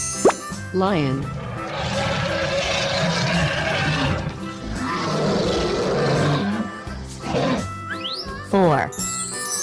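In a 3D animal slide video game, a lion lets out a long, loud roar amid cartoonish plopping effects, springy boings and tinkling chimes, with game sounds busy throughout.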